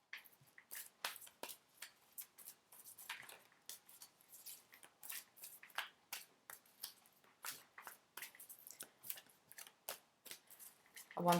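Quiet, close riffling and snapping of playing cards being shuffled, many quick crisp bursts in an uneven but steady rhythm, no voices.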